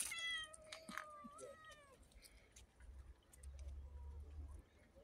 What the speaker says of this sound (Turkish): Kediler.